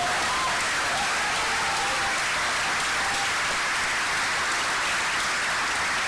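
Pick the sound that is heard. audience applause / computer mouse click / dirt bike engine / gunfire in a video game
audience applause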